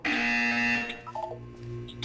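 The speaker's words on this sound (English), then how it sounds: "When you hear the buzzer, look down at the floor." A loud electronic buzzer from the Portal 2 video game sounds once, a harsh sustained tone that cuts off after under a second, followed by quieter tonal game sounds.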